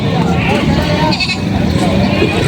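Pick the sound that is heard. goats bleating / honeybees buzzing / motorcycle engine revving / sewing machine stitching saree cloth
goats bleating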